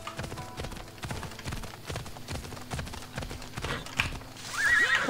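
Horse hooves clip-clop at a steady gallop in Assassin's Creed Odyssey, a continuous rhythmic run with a whinny near the end, loud and close with game music underneath.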